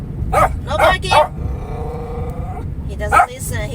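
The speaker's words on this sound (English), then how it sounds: "what makes him bark so much." Dog barking in a home, three loud barks in quick succession and then one more after a pause, close to the microphone, with background noise in between.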